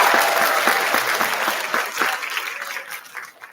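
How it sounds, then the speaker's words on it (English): An audience at a winter school concert applauds the concert band, a dense, steady wash of clapping that tapers off toward the end. "Give them a big round of applause for that"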